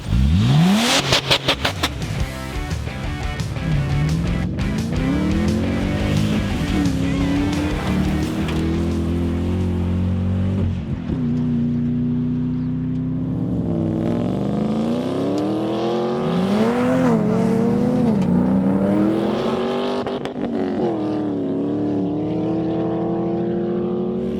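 A car revs hard and accelerates during a gravel drag run at a Cape Route Rally event, the engine loud and close, climbing through gears in long sweeping pitch rises for over twenty seconds with no talk.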